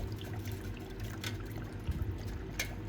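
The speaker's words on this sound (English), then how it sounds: "I'm gonna add a little bit of distilled water to get the cell back up to its operating level" Distilled water poured into a silver electrolysis cell makes a soft, steady trickle beneath a constant low hum, with a couple of brief brighter splashes.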